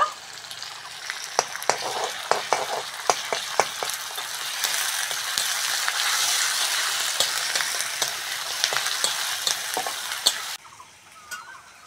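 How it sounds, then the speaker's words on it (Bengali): Chopped onion and garlic sizzle in hot oil in a pan for a banana-flower veg curry, with a steady frying hiss broken by repeated clicking spatula stirs, close and clear, before the sizzle drops suddenly near the end. "ওই তেলের মধ্যে বন্ধুরা পেঁয়াজ দিয়ে দেব। পেঁয়াজের সঙ্গে বন্ধুরা রসুন দিয়ে দেব।"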